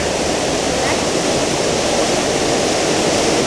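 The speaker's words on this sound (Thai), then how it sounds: "น้ำตกน้ำห้วย" A waterfall and mountain stream in hill country rush with a steady, loud, dense roar of falling and flowing water, unbroken from start to finish.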